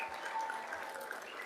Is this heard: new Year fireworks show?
no